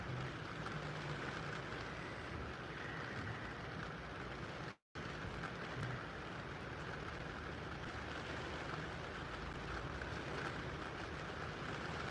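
Steady rain falls outdoors as a dense, even hiss that continues without pause except for one brief dropout near the middle, and no one speaks.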